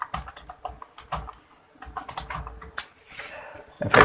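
Keystrokes on a computer keyboard while data goes into a blank Excel workbook, a quick uneven run of clicks with short pauses, close and alone.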